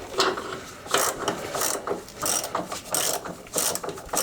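Hand ratchet clicking in repeated short bursts while snugging an engine mount bolt on a Jeep Cherokee XJ, close and fairly loud with brief pauses between strokes and no talking.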